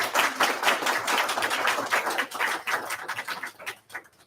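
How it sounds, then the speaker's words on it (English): Audience applause at the inaugural International Moon Day celebration at a community and technical college, a modest crowd clapping steadily and then thinning out toward the end, with no talk over it. "And I think that deserves an applause."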